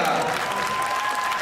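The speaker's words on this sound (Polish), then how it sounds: "Prosimy o wielkie, wielkie brawa!" Brief burst of dense, loud audience applause at a horse dressage show at Cavaliada in Warsaw, steady clapping with a faint voice beneath.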